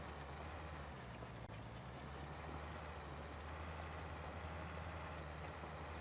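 White 195 tractor engine in Farming Simulator 19, running near wide open while cultivating: a steady, quiet low drone with a constant hum throughout, no other sounds and no talk.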